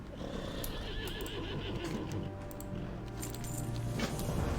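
A horse mount in the video game World of Warcraft neighs with a clear, loud whinny, accompanied by jangling tack and clip-clopping hooves, and no talking.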